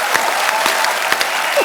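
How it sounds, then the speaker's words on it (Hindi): A studio audience at a comedy talk show bursts into loud, steady applause, many hands clapping together in a full, close wash of sound. "जोरदार तालियां।"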